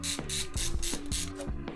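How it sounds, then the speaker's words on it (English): A Phillips head screwdriver backs screws out of a MacBook Pro 17-inch case, making a quick, close series of sharp ratcheting clicks in a steady rhythm. "we're gonna need a screwdriver, and the only screw we really need is basically a Phillips head screwdriver"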